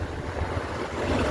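Strong wind buffets the microphone on a bridge over a fast-flowing river, a loud continuous roar of rushing water and gusts.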